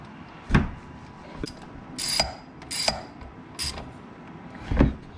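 Ratchet clicks and metallic clanks as new bolts are snugged down on a front differential actuator of a 2020 Honda Foreman Rubicon ATV, a few separate bursts of mechanical ratcheting close by with no talk.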